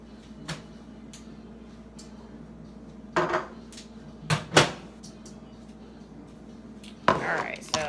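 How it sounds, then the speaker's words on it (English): Graham cracker crumbs stirred with melting butter in a pan for a cheesecake crust, with brief scraping and knocking bursts of the utensil against the pan separated by quiet stretches. "I'm going to kind of keep stirring this around until it all melts."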